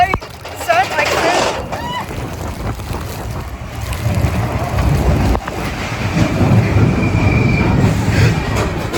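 Disney's Mount Everest roller coaster rumbling along its track in pouring rain, with a loud continuous roar of wheels and wind plus squeals, while riders talk close by.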